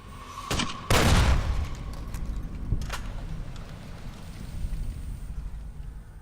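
Grenade rifle fire in Fallout New Vegas: a sharp shot followed by a heavy booming explosion, then a couple of further bangs and a rumbling tail, loud and close with no talk.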